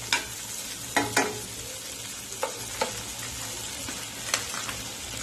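Onion, capsicum, tomato and chillies fry in butter and oil for white sauce pasta, a low steady sizzle with a few sharp clicks of stirring scattered through it.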